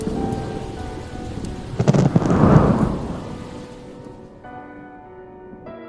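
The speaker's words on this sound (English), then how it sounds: "As the thunder rumbled in the air, a breeze blew in" A thunder rumble swells and fades over a few seconds amid steady rain in a stormy night scene, followed by quieter background music as the rumble dies away.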